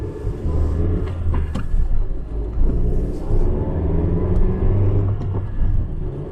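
A Honda Fit GK5 with a manual gearbox and a fitted short-shifter drives along, its engine a steady low rumble with road noise that swells and eases slightly, heard from inside the car.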